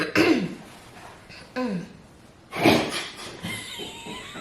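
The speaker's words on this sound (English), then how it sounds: "Had to clear your throat." A man clears his throat with several rough, guttural bursts spread over a few seconds, each close and fairly loud, with brief quiet gaps between them.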